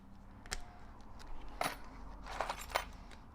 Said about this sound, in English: There's so many master keys in here.